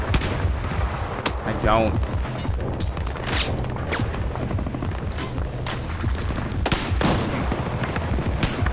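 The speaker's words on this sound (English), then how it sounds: "A whole bunch of guys shooting at me and making my screen move" Battlefield 4 campaign gunfire aboard a tilting ship: a dense volley of sharp, loud shots and blasts cracks out in irregular bursts, with a brief spoken word among them.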